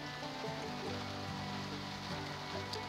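Garlic sizzling in hot oil in a pan for a spicy peanut chutney, a steady soft crackle with occasional light scrapes as it is stirred, close and unaccompanied by talk.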